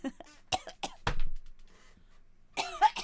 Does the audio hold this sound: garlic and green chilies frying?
no